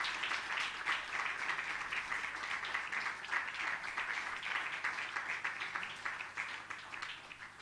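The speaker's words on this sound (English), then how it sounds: "let's give them a warm round of applause" An audience at a formal event breaks into warm applause, a dense, steady wash of many hands clapping that holds evenly throughout at moderate distance.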